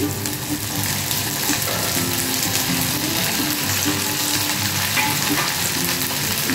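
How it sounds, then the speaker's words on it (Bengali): Potato pieces frying in hot oil in a pan, a loud continuous sizzle close by, with stirring scrapes and clatter mixed in and no talking. "এবার এতে আলুগুলো ছেড়ে দিচ্ছি।"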